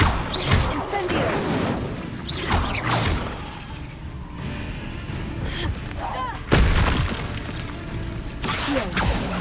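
Fiery spell blasts from Incendio cast repeatedly in Hogwarts Legacy, several loud whooshing bursts with sharp attacks spread across the stretch, over game ambience with a voice talking.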